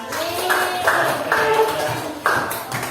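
A classroom of students claps for group 5, several uneven bursts of applause with taps and light clatter over three seconds, fairly close and loud.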